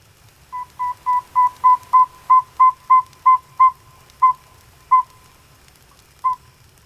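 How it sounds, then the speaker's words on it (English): A northern saw-whet owl gives a long, steady run of evenly spaced high hollow toots, about a dozen in quick succession, then slowing with longer gaps, clear and fairly close against a quiet background. "That's the northern Saw-whet Owl, the tiny owl with the endless call."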